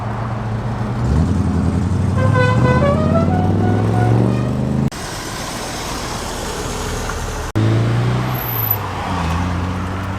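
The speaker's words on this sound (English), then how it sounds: "Very neat old Chevy, followed by the 65 Ford Cortina Mark 1 and the Morris Mini Cooper behind that." Classic cars at a road run in Nantwich, Cheshire, including an old Chevy, a 1965 Ford Cortina Mark 1 and a Morris Mini Cooper, engines rumbling and revving nearby as they move off, with abrupt changes in the sound.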